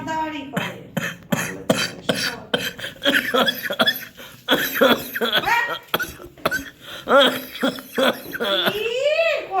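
A few sharp coughs mixed with chuckling and talking voices, close by and fairly loud.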